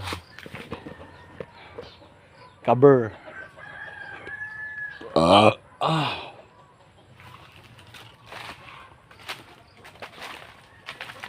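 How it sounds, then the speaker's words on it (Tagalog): Chickens on a farm with cacao trees: a rooster crows loudly several times, with scattered clucks and rustling in between, near and clear, and faint voices underneath. "Konti na lang pala yung manok dito"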